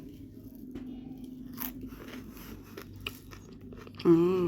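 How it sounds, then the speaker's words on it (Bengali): Someone bites into fried chicken pakoras with crunchy puffed rice (muri), giving a few close, soft crunching and chewing sounds, ending with a short murmured voice. "চিকেন পকোড়াগুলোকে ভেজে নিয়েছি এখন আর একটু মুড়ি নিয়েছি মুড়ি দিয়ে খাবো"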